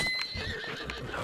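A skeleton horse in Zelda: Breath of the Wild whinnies loudly and close, a rising neigh layered over quick clip-clopping hooves and game ambience.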